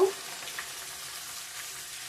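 Ground cumin, coriander, turmeric and chilli powder dropped into a pan of frying elephant-foot yam and potato, giving a steady, soft, close sizzle with faint stirring and no talk.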